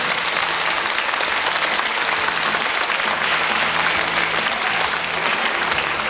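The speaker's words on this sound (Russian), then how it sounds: "Давайте похлопаем" An audience at a 40th anniversary celebration of a House of Culture applauds in a dense, sustained round of clapping that fills the hall evenly from start to finish.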